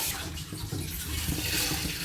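Water poured into a cooking pan for sugar syrup, a steady close splashing gush filling the whole moment with no talk over it.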